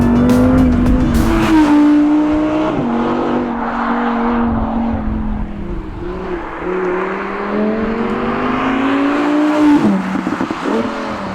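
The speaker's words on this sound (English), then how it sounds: "That's right, it's the V10 engine." An Audi R8 V10 engine revs in dynamic mode, loud and close, climbing in pitch through several surges and dips before a final sharp rise near the end.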